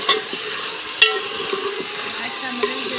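Tomatoes and other ingredients stirred and frying in a pan, a steady close sizzle with a few light scraping knocks, no voices.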